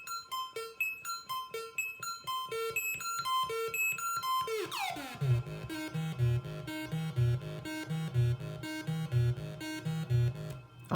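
Synthesizer notes shaped by an envelope generator's amplitude envelope, first a run of short plucky repeated tones, then a sweeping filtered swell into pulsing deeper notes, a steady rhythmic pattern with no voice.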